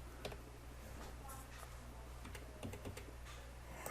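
Computer keyboard typing, a scatter of quiet clicks and short bursts of keystrokes, close and faint over a low steady hum.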